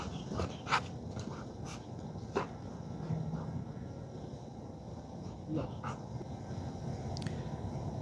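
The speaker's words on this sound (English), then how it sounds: "All right, good dog." A retriever in a poison bird training drill pants and lets out a few soft whimpers and yips, faint against outdoor background noise with scattered clicks and rustles.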